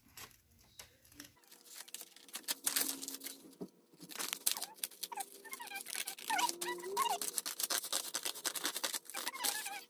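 Scissors cut out a paper pattern and fabric for a circle skirt for an 18-inch doll, with irregular close snips, scratchy rustling and crinkling of paper that grow busier and louder partway through.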